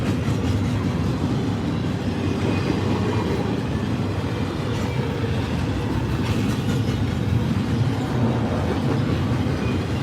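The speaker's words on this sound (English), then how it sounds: "This is train 23G." Norfolk Southern train 23G rolls past at Oakdale, Tennessee, a loud, steady rumble with grinding wheel noise and rhythmic rail clatter that holds constant from start to end, with no voices.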